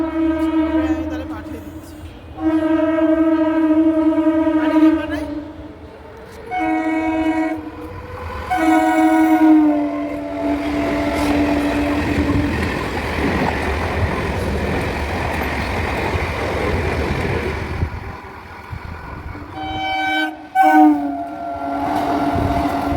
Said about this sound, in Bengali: এবারে ট্রেন ধরবো